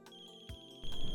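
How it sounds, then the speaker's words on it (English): A cell phone rings faintly in the distance inside a horror video game, a steady high electronic tone over a dim ambient backdrop, with a low rumble swelling near the end. "We end up back home and hear a cell phone ringing in the distance."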